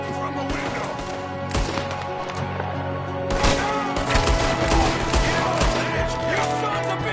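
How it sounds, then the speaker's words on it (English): Enemy gunfire in Red Dead Redemption 2, with repeated rifle and pistol shots cracking amid a chaotic firefight, growing denser and louder partway through, with voices shouting underneath. "There's another one shooting from the window."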